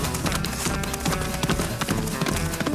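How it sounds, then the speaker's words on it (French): Cartoon Clydesdale horse hooves clip-clopping in a steady trotting rhythm, close and fairly loud, over a busy music and effects backdrop. "Une Clydesdale, un cheval qui vaut une fortune."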